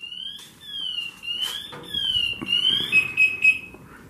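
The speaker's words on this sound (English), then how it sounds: "His alarm's going off." A high electronic alarm tone chirps and warbles continuously in a semi truck, shifting pitch in short sweeps over faint background rustling.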